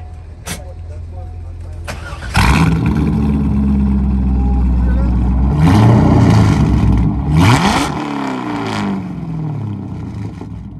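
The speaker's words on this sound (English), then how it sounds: "let me get back in and get this cold start on this one too, guys. This one here gonna be pretty loud because he don't have stock pipe" A car with aftermarket non-stock exhaust pipes cold-starts at a car show, the engine catching with a loud burst and settling into a rumbling idle with a couple of revs while people talk nearby.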